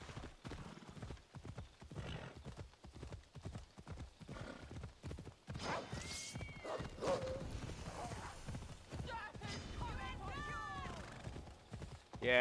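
Horse hooves clip-clop steadily in the game Assassin's Creed Odyssey, with a few whinnies and game sounds layered over it while someone talks over much of the ride.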